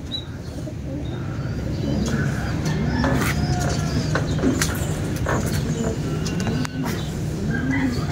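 A racing pigeon arrives at its loft amid steady outdoor ambience, with soft cooing and clucking from birds nearby, faint scattered chirps overhead and quiet murmured talk in the background.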